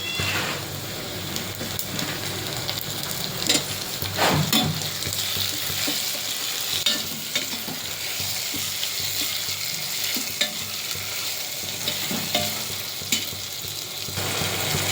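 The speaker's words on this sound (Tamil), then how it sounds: "இதுக்கப்புறம் நம்ம தக்காளி போட்டு வதக்கலாம்" Tomatoes sautéing in a pan with softened onion and chili for a sweet potato kara kuzhambu, a steady close sizzle with scattered stirring scrapes and clinks throughout.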